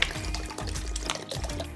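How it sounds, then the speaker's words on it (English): Water is poured into a Korean mul kimchi mixture of ground vegetables, a continuous close splashing and gurgling stream with small drips and bubbling, no voices present. "Pour 5 liters of water, including the water used to grind the vegetables."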